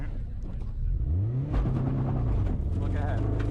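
Race car engine on a hill climb run revving up through a gear, the pitch climbing then settling into a strong sustained drone, loud and close with wind noise.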